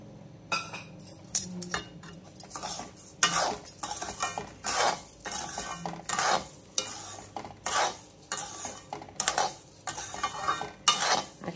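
A spoon stirs sugar into semolina sheera in a pan after the gas is switched off. Repeated rhythmic scraping strokes come with light metallic clinks and a soft sizzle, close and fairly quiet.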